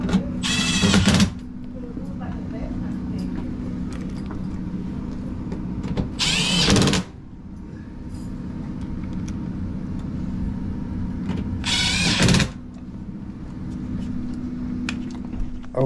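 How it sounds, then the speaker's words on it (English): A faulty blower motor in an eight-year-old ICP HVAC unit runs with a steady low drone. Harsh, loud rattling grinds break in roughly every five to six seconds. "that blower sounded horrible"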